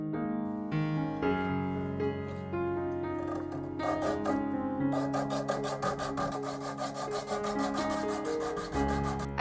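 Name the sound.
sanding the edge of a resin bloom piece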